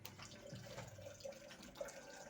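A spirit is free-poured into a glass as a quiet, continuous liquid trickle with a few faint splashy bursts, with no voices.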